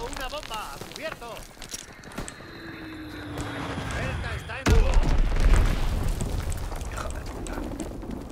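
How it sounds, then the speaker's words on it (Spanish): A bomb explodes in a WWII shooter on the Valkyrie map: a sudden heavy boom that rolls into a rumbling aftermath, set amid battlefield noise with voices talking before and over it. "Han lanzado una bomba."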